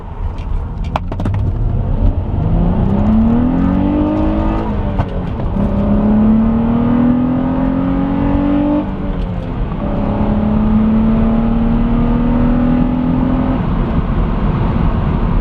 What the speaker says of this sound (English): Get a little first gear pull.